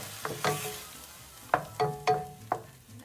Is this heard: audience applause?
no